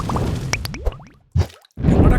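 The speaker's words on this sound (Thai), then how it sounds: "ครับผมนี่เลยถ้ำเข้ามาครับก็จะเจอนี่เลยครับน้ำหยดเนาะ" Water drips and plops inside an icy cave in the Blox Fruits video game, a few close wet drops falling in quick succession with short silent gaps between them.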